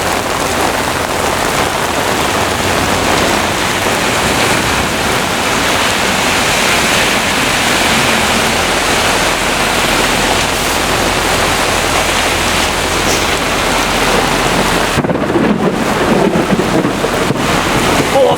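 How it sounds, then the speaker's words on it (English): Heavy rain pours steadily in a dense, loud roar during a severe thunderstorm in Brooklyn, New York, with constant broadband hiss and low rumbling underneath, continuing without pause throughout. "pouring rain out here like crazy right now"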